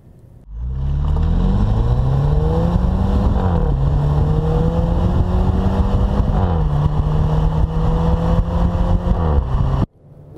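A Mercedes E-Class Coupé 200 AMG exhaust gives a loud, sporty note that climbs through the revs, briefly dips as it shifts, then pulls on steadily before cutting off abruptly.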